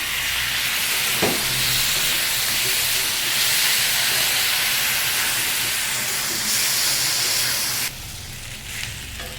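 Water splashed into a pan of hot yardlong beans and potatoes cooking in a vegetarian dish raises a loud, steady steam hiss that holds for about eight seconds, then eases to a quieter sizzle.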